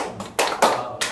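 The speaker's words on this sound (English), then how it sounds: "I'm going to give you a round of applause before Thursday." A meeting audience gives a short round of applause, a few loud, close bursts of clapping hands over about a second.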